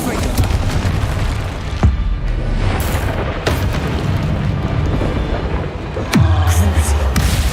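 Fiery Confringo spell blasts from the video game Hogwarts Legacy, several booming explosions scattered over combat noise and rumble, with a voice calling out during the fight.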